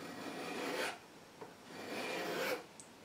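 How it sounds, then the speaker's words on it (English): A fine file rasps across a soft carbon brush from a variac in two long, close strokes separated by a short pause, with a faint tap in between. "This stuff is extremely soft, guys, so obviously use a quite a fine file"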